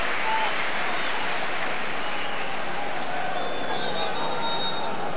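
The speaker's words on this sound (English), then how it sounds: "Deserves that applause." Stadium crowd applauding during the Leeds United v AS Roma football match in March 2000, a dense, continuous roar of clapping and crowd noise throughout, with a few faint whistles.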